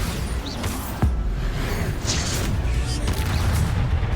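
The Bombarda exploding spell in Hogwarts Legacy lands as a thudding boom inside dense, continuous battle noise, loud and close, with crackling bursts layered through the whole stretch.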